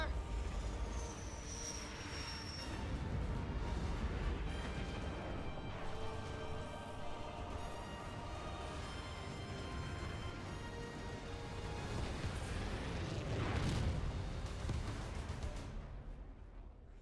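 Archer missile strikes in Halo Wars 2 rumble as a dense, continuous roar of engines and explosions, loud and sustained, swelling again near the end.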